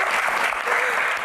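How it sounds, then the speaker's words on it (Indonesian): Brief burst of dense clapping from an audience at a Q&A session, loud and close, with a voice faintly underneath. "Tepuk tangan tuh keduanya."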